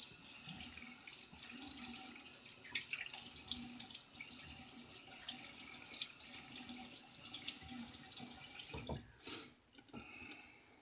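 Running tap water pours steadily while a Stando Mokosz double-edge razor is rinsed under it, a continuous close splashing that dips briefly near the end.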